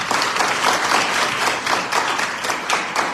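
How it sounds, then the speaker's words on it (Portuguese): A room of young people at a church youth service claps steadily and enthusiastically, a dense, continuous burst of applause filling the space. "aplaude a Jesus"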